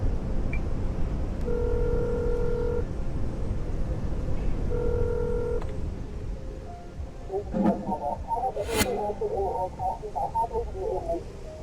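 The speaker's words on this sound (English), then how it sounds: "Phone the emergency services." Phone keypad dialing emergency services in the game Accident, after a crash on an icy motorway: two short bursts of steady dial tones, then a voice talking over faint background noise.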